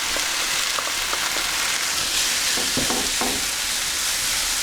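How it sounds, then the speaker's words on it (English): Steady sizzling of pepperoni frying in a hot pan, with a few soft clicks and stirring taps, close and continuous throughout. "Again a couple of minutes frying."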